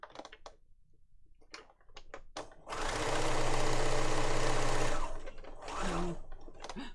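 A sewing machine stitching a lap book journal runs in one close, loud burst of about two seconds, after scattered clicks and handling taps, followed by another short run.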